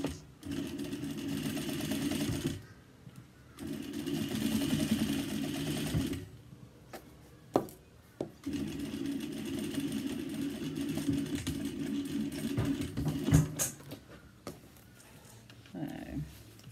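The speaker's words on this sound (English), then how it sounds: "we're just going to do a 3/8 inch seam on that. Make sure you backstitch." Sewing machine running in two long bursts while stitching a 3/8 inch seam with backstitching on a daypack back panel, a steady close mechanical whir with brief pauses between runs.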